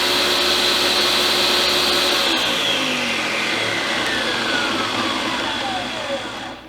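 A blender struggles through a thick keto vanilla wafer mix, a loud, continuous motor whine whose pitch slides lower as the blade bogs down, then fades slightly near the end.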